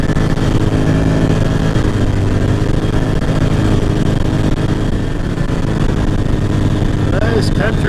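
An ATV engine drones loud and close throughout a back-road country ride near the hills, a constant rough rumble with slight shifts in pitch and no pauses.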